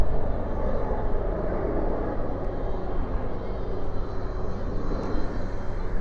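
A jet airliner landing at night at DFW airport with spoilers up and thrust reversers deployed, giving a steady broad engine roar that holds loud and even for several seconds without a break.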